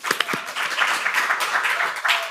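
Audience applause at an evening poetry reading at The Dalí, a dense, steady wash of many hands clapping with a few sharper claps near the start, loud and close, with no one talking over it.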